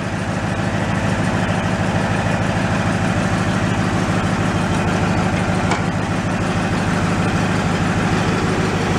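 A Snapper riding mower engine runs steadily in low range, loud and close, with a continuous rumbling drone that never lets up.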